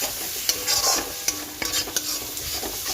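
A spoon scrapes and stirs masala frying in a pan for egg curry, irregular close clinks and scrapes over a steady sizzle, with no talking.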